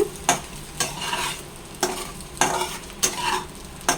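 Fried noodles are stirred in a hot pan on a stove that has just been switched off, with repeated scraping strokes and a faint sizzle underneath, close and clear with no talking.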